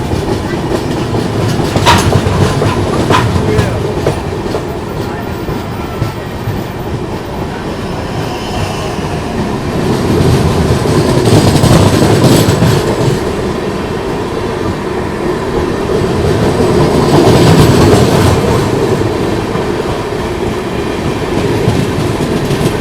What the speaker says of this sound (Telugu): ఇది క్రాస్ ఓవర్ అవుతుంది ఇక్కడ.